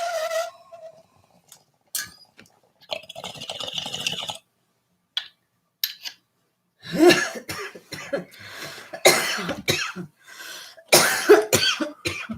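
A person coughs and clears their throat in a series of short, close bursts separated by quiet gaps, louder and more clustered toward the end.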